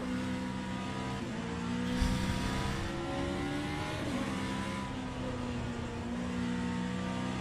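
A race car engine in the rFactor 2 racing sim revs and accelerates steadily, its tone climbing through the gears, close and continuous, with a brief tire squeal partway through.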